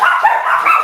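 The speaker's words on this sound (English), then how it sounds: "sorry about my dog" A pet dog yips and barks in a quick, continuous burst, close and fairly loud, during a community program meeting.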